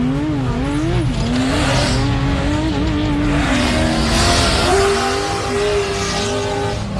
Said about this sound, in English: great sound there from the Joe Gibbs-powered Mason truck